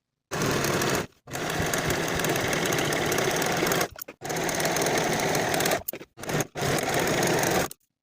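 A sewing machine finishes the raw edges of jumpsuit leg and crotch seams, running in close, loud, steady bursts that stop briefly several times before starting again.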